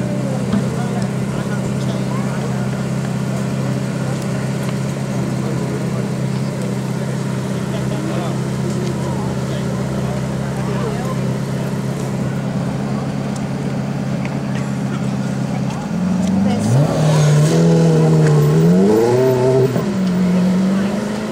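An Audi R8 supercar on a track day circuit at Elvington drives past with a steady engine drone, then a louder revving, shifting passage near the end; a voice speaks over it.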